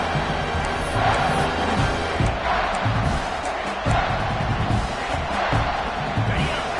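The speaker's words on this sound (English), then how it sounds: "here comes the noise. This crowd is trying to inspire this defense to make a big red zone stop" A packed football stadium crowd at Oregon at Michigan roars and cheers continuously, a dense, loud wall of noise during a red zone defensive stand, with no clear single voices standing out.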